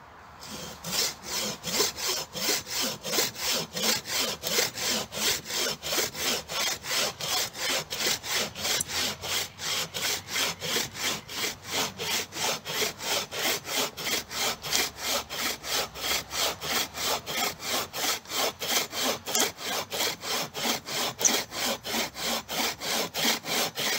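A 75 cm bow saw cuts through dry wood with fast, steady, vigorous back-and-forth strokes, each rasping pass loud and close with no pauses for the whole stretch.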